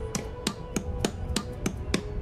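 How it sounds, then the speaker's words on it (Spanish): Villagers in The Universim hammering while building a fishing hut, seven evenly spaced sharp knocks in a steady rhythm over a quiet game background, moderately faint. "¡Cómo le dan martillazos!"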